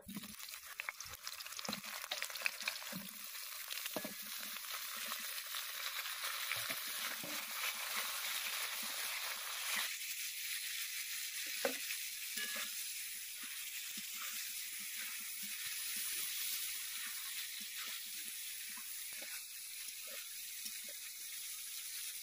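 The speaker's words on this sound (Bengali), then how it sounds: "এবার বেগুন ভেজে নেব।" A steady hiss and sizzle of eggplant frying in hot oil runs throughout, with occasional soft pops and clinks, fairly quiet and close.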